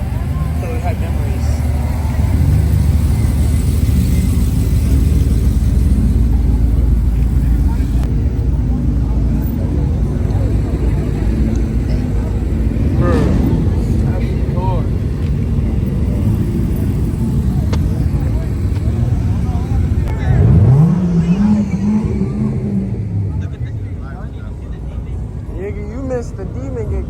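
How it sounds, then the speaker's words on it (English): Dodge Demon doing a burnout, a heavy low engine roar that rises into a sharp revving sweep near the end, with people talking loudly over it throughout. "The demon get crazy. You just did a burnout."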